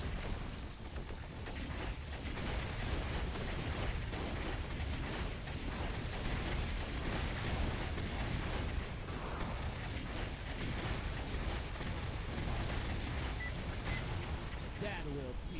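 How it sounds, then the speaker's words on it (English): In a video game, the Hell Rocket Launcher fires over and over, setting off a dense, continuous barrage of explosions and booms that stays loud and unbroken throughout. "The Hell Rocket Launcher has a slight wind-up"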